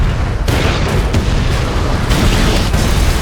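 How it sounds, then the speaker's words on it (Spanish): A big explosion from the film I Am Legend shakes a house as it blasts a horde of creatures, heard as dense, loud roaring bursts with several sharp cracks. "La explosión lanza a los Darkseekers por los aires y la onda expansiva sacude los cimientos de la casa."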